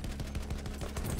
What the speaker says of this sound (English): He's shooting them on the roof.